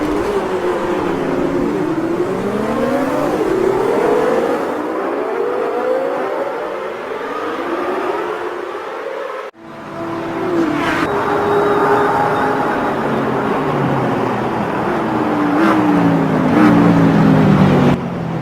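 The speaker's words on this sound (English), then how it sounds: "you don't just hear the engine sounds, but you actually hear the reaction of the air" Racing car engines in the game Automobilista 2 roar and rise through gear shifts, pitch climbing and dropping repeatedly, with a brief cut near the middle before the revving resumes, loud and continuous.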